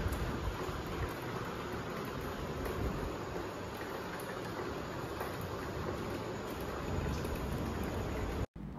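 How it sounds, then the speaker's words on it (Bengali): Heavy night rain driven by strong wind, a dense, continuous hiss of downpour that stays even throughout and is broken by a brief dropout near the end. "হঠাৎ করে রাত 3-3:30 দিকে মুষলধারে বৃষ্টি, প্রচণ্ড হাওয়া উঠে গেল"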